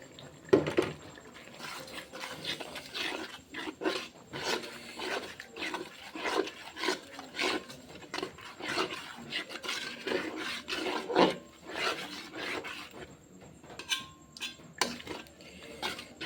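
Masala spices are stirred and fried in a pan, a quiet run of repeated scraping and rasping strokes with faint sizzling beneath, and no talking.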